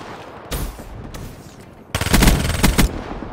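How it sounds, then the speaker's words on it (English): Vesper submachine gun firing in Black Ops 3, a short burst followed by a longer loud, very rapid stream of shots, close and dominant over game background. "switch over to the Vesper, which is a submachine gun"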